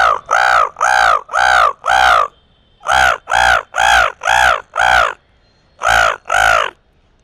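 A voice imitates a crow, giving loud, close harsh caws in quick groups of four or five, then two, with short pauses between groups.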